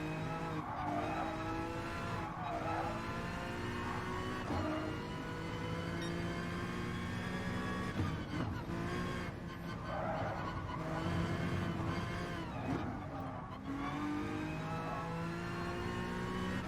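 Race cars in the Gran Turismo Sport VR video game roar continuously at high revs, with tire squeal and skidding rising and falling through corners. The engine noise stays steady and dense throughout.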